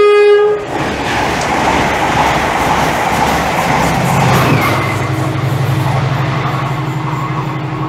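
A train passes close by at Seer Green, a horn sounding at the start, then a loud, steady rumble and rhythmic clatter of wagons rolling past.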